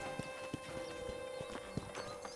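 Horse hooves galloping in Red Dead Redemption, a steady run of clip-clop beats close up over an ongoing game ambience, with no talk.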